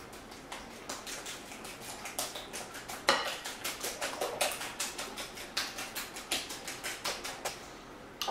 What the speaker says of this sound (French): on va fouetter.